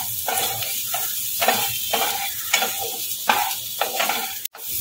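Turmeric is stirred in a little oil in a frying pan, a spoon scraping in repeated close strokes roughly every second over a soft, steady sizzle, with no talking.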